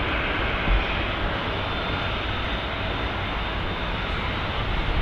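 A Virgin Atlantic Airbus A350-1000 taxiing at Manchester Airport, a loud, steady engine roar with a broad rushing hum that holds constant throughout, heard close by with no talking.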